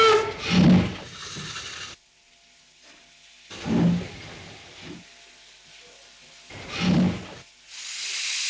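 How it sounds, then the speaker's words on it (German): A steam locomotive's pistons hiss in three strong, rhythmic bursts a few seconds apart, each loud and close with a low chuff, separated by quieter pauses. "Im nordbayerischen Hof drehen sich die letzten Räder im Rhythmus der Dampfkolben."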